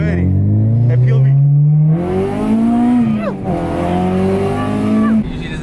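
An Acura RSX engine drones loudly from inside the car, pitch rising and falling through shifts as it revs, with a slight unusual edge under the steady roar.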